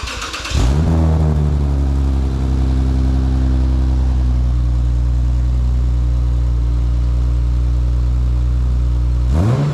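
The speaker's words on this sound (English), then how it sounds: "so he can hold it and you can hear that first fire up." A Lexus IS350 with a newly installed cheap aftermarket exhaust fires up with a sharp crank and burst, then holds a loud, deep, droning idle recorded close behind the car for several seconds before a brief blip at the end.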